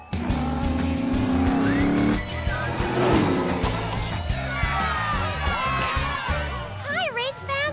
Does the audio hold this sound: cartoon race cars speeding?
yes